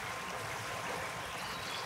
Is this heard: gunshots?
no